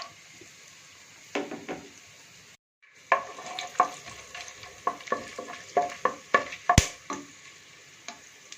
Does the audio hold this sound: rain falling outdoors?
no